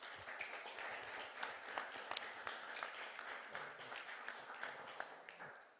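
Conference audience at the final event of an energy project claps in thanks to the organizers, a moderate, fairly distant patter of many hands with a few sharper individual claps, fading out at the end.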